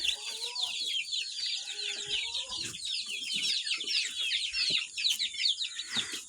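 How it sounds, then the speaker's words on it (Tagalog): Newly hatched chicks in a DIY incubator give a steady stream of high, rapid peeping. It sounds close and continuous, with faint low voices underneath. "So mayroon na po tayong dalawang sisiw na nakalabas."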